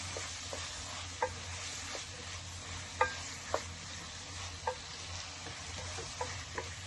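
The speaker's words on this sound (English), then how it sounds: "Just stirring." Bengali chicken kosha being stirred in a sizzling pan: constant frying hiss close by, punctuated by irregular clinks and scrapes of the spoon against the pan, no voices.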